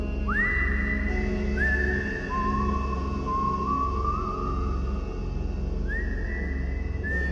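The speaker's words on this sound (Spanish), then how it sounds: "Entonces escuché un silbido, suave," A soft, distant whistle drifts through the night air, heard from a bench under the stars: several sliding, rising and held whistled tones over a steady low background hum, with no voices.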